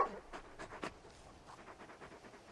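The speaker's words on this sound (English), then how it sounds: "You're just a big puppy, aren't you? A very big puppy." A big dog in the Final Fantasy 16 video game pants softly in quick rhythmic breaths, faint and close, with no speech over it.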